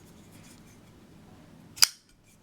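Chris Reeve large Sebenza 21 folding knife, a left-handed model, gives one crisp, sharp metallic snap as the blade locks or closes, heard close and alone after quiet handling noise.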